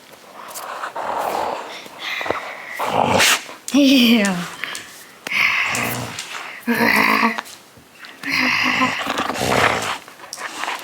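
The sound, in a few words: dog growling during tug of war with toy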